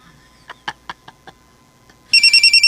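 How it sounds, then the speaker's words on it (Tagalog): A mobile phone starts ringing with a loud, repeating electronic tone after a few soft knocks and clatters. "Oy, cellphone mo."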